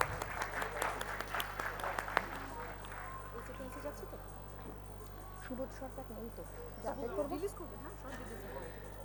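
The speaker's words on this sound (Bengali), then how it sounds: "একটা জোরে হাততালি হয়ে যাক।" Applause from an audience at a book launch event, strongest in the first few seconds and then settling into a quieter murmur of crowd noise over a steady low hum.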